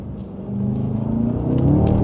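A BMW M5 F10 Competition accelerates hard with its wheels spinning, a loud, close, deep engine rumble swelling steadily over a couple of seconds with no talk.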